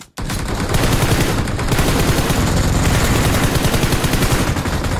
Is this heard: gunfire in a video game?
yes